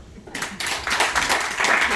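Parents in a stand-up comedy audience at a small theater applaud in a dense, steady burst of clapping that swells after a brief quiet start and stays loud to the end.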